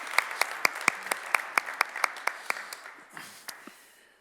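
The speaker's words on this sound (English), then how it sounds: "Now you can clap your hands." Audience members at a renewables and technology summit panel clap in a fairly close, rhythmic burst of distinct claps that thins out and fades toward the end.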